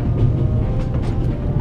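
Steady low rumble and rattle of a moving train in the video game The Raven: Legacy of a Master Thief, continuous and loud with no voices.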